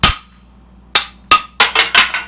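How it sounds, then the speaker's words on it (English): Six sharp metallic hammer blows ring out on a Subaru suspension part, a single strike followed by a quick irregular cluster, loud and close in a workshop with a low steady hum beneath. "Let's just smack it out with a hammer."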